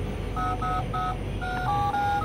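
Button tones from a toy phone, a superhero or cat novelty handset, sound as a quick run of about six electronic beeps at a steady rhythm over a constant background hiss.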